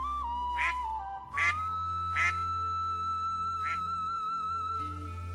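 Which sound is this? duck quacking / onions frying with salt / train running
duck quacking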